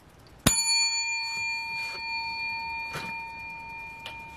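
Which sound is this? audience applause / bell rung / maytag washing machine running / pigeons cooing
bell rung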